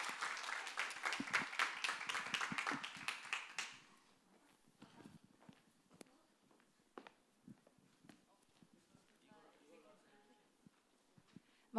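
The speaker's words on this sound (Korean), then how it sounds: "우리 들어갈 때 다시 한번 격려의 박수 하도록 하겠습니다." Brief bursts of encouraging applause rise from a church youth service congregation, then quickly fade into scattered small sounds and light movement in a quiet room.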